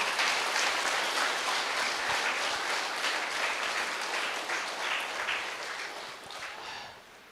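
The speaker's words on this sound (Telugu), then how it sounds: "గట్టిగా చప్పట్లు కొట్టండి." Audience clapping at a temple anniversary gathering in Belagalam, Kurnool, a dense sustained burst of applause that gradually thins toward the end.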